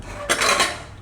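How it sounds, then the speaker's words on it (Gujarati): A pressure cooker lid is set down and closed, a single brief metallic clank and scrape of pot against lid, close and clear, lasting under a second. "તો હવે આપણે કુકરનું ઢાંકણું બંધ કરી દઈશું"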